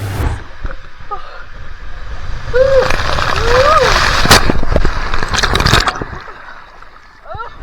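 Rushing water and splashing fill a fast ride through the enclosed Humunga Cowabunga body slide at Disney's Typhoon Lagoon, with a person's voice whooping or shouting partway through before the roar fades.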